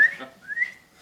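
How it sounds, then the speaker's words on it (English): A whistle gives two rising, sliding tones, loud and close, with a short gap between them and a faint third sound at the end. "What's this whistle for?"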